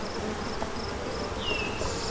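Worker bees buzz inside a hive fed with sugar syrup, a steady low droning hum with faint higher insect tones, heard close and continuous without talk.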